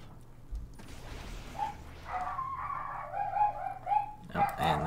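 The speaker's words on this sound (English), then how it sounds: "there goes the dog" A dog in the Symphony of War: The Nephilim Saga video game yips and barks in a short run of quick, fairly faint calls over a low background.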